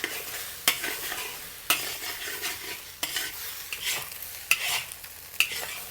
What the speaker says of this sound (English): We just need to semi-cook our eggs before we push down our rice and mix them up together.